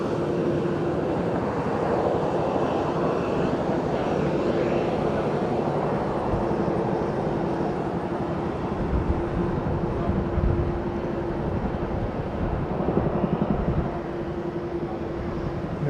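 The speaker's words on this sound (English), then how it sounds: "I hear a Chinook." Chinook helicopter flying over Fukuoka airport, a broad continuous rumbling drone with a faint steady whine, moderately distant and sustained throughout.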